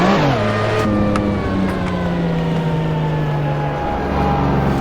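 A Lamborghini Miura's engine pulls hard up a hill climb course, heard close and loud from inside the car, its pitch sliding down through gear changes and climbing again in a steady throaty drone.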